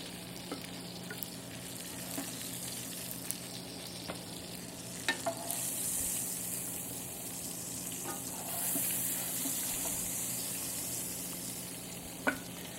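Meat browning in a pan gives a steady soft sizzle, quiet and constant, with occasional faint clicks and scrapes and two brief louder hissing swells.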